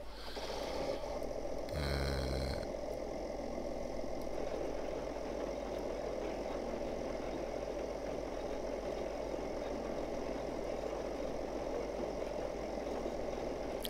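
A John Deere tractor engine idles steadily in a farming game mod, a low, even mechanical drone, with a brief louder rumble early on before settling into a constant hum with no talking.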